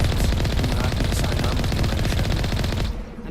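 Rapid automatic gunfire from the video game Mass Effect Legendary Edition on the planet Therum, a loud dense burst of shots firing nonstop for about three seconds before cutting off abruptly.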